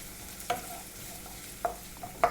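Onions sweating in a pan with a low, steady sizzle and a few sharp stirring clinks, close and fairly quiet.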